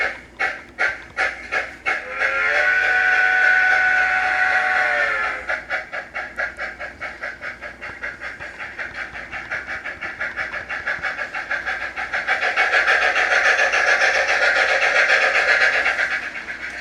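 DCC model steam locomotive driven through a LokSound 50334 decoder on an upgraded speaker, with rhythmic chuffing exhaust beats that slow and quicken, a sustained whistle blast early on and a second hissing whistle-like burst near the end, close and fairly loud.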